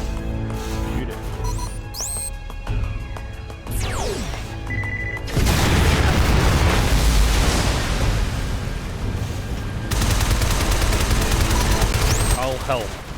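Gunfire from the video game Shadow Complex: sustained heavy bursts of automatic shooting with crashes and blasts, loud and continuous through two long stretches, with lighter game effects and occasional talking in between.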